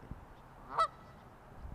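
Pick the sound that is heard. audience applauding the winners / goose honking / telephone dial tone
goose honking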